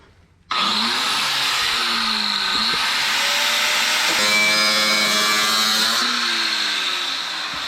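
A power tool with a grinding disc cuts into metal pipe up to the flange on a gut-and-go car build, starting abruptly with a loud, sustained whining screech that rises in pitch midway and holds steady close by.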